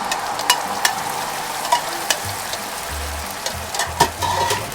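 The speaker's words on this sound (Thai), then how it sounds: "น้ำเกรวี่ที่เราผสมไว้เมื่อกี้เอามาใส่ในกระทะ ได้เลยค่ะ" Gravy hitting a hot frying pan after steak has been seared, a loud, close, continuous sizzle with bubbling crackle and a few knocks and scrapes of a utensil against the pan.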